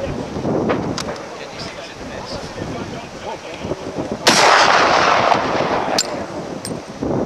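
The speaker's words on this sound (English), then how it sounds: "It's a good rate of fire, isn't it?" Rifle fire at Bisley shooting range: distant sharp shots crack over wind noise, with one louder close report followed by a long rushing tail and a couple more sharp cracks, and people talk in between.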